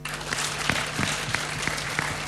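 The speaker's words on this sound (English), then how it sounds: "A round of applause" Conference attendees at a devolution gathering give a short burst of steady applause, fairly close and even, with a few louder claps standing out.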